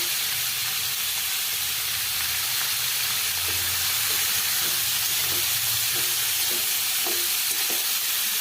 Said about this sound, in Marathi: सुकी भाजी करायची मला फ्लावरची चांगलं तेलामध्ये परतून होते